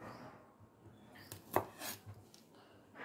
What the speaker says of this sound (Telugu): ఇలాగా ముక్కలు కట్ చేసుకొని